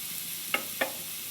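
Two quick scrapes of a spoon stirring beans and carrots in a pan for aval upma, soft and close against a quiet background.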